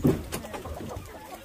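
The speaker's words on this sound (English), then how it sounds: "Because there's a lot of chickens." Several of about ten chickens cluck in a short burst close by, a quick run of soft throaty clucks over a brief moment of outdoor ambience.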